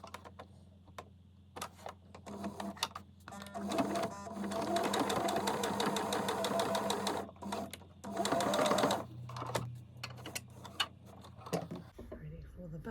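Home sewing machine stitching the end of a skirt, its rapid mechanical whir running in bursts of varying length with pauses between, close and fairly loud, with some faint talk in the gaps.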